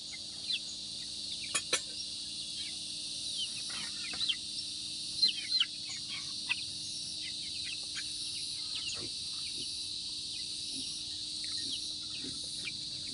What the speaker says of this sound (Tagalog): Papatoka natin doon sa ating mga manok ng Rhode Island.